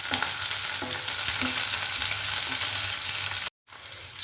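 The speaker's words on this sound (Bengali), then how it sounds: "শিমগুলো যতক্ষণ ভাজা ভাজা হচ্ছে" Cut green beans fry in a hot pan with a continuous crackling sizzle, occasional stirring scrapes, and a brief dropout near the end; no one speaks.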